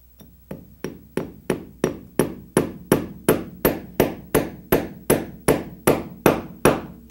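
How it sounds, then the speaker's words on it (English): A tack hammer taps upholstery tacks into a sofa in a steady, even rhythm, about sixteen sharp, close strikes one after another. "hopefully not have any boo-boos with the tack hammer"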